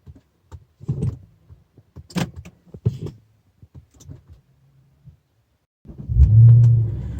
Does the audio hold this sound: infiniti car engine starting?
yes